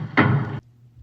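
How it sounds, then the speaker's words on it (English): A door is shut in a scene from an Invisible Man drama, one short, loud, close thud with a brief hollow body, then quiet room tone. "You shut the door."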